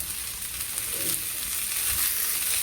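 Tomato, onion and garlic sautéing in a pan for a prawn and bottle gourd curry, a dense continuous hiss of frying held steady and close for a few seconds without speech.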